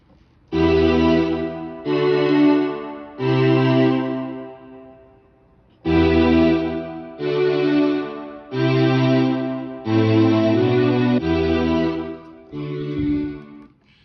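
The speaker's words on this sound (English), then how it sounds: "the strings separated for stereo, left and right" Melodic strings from an MPC Live Mk1 mix, split across the left and right channels, play a sequence of sustained notes in short phrases with brief gaps, clear and loud with effects coloring, no voices.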